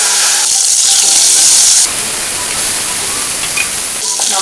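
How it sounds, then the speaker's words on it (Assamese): Kawoi fish (climbing perch) fries in hot oil in a home kitchen, a loud, continuous bright hiss and crackle that shifts in intensity partway through and persists without pause. "তেল গৰম হৈছে এতিয়া মই মাছকিটা ভাজি লম"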